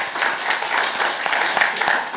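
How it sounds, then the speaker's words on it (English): Audience applause at a diaspora discussion event in New York: a close, steady burst of many hands clapping, dense and even throughout, with some crowd noise mixed in. "And I think everyone needs to applaud that"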